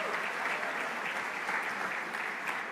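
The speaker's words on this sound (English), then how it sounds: "Give yourselves a round of applause." A large room of Latino elected officials and conference attendees claps continuously, a dense, loud, even wash of applause that holds steady throughout.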